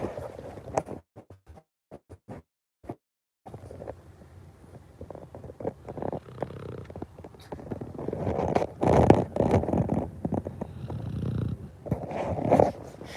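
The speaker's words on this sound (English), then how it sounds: "here, listen, he's snoring" Soft, rhythmic snoring from an animal nearby, slow breaths rising and falling, growing a little louder toward the end, with faint rustling early on.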